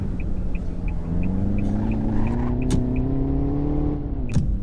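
A small 2023 Nesumi Sochi car in a Roblox driving game hums along at a steady cruise, its engine tone slowly rising, with faint rhythmic ticking and a couple of sharp clicks near the end.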